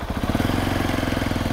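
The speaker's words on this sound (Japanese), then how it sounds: "バイクの音とかどうですか、" A motorcycle engine runs steadily at a low, pulsing throb while riding, recorded from a helmet chin guard, close and continuous, with a faint whine of wind over the top.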